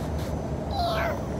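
A child imitates a cat's meow, one short rising-then-falling vocal mew heard close up.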